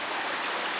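Creek water rushes steadily over rocks just above a waterfall in the Shangri-La Arch area of Carter Caves, Kentucky, a close, loud, continuous broadband wash with no voices.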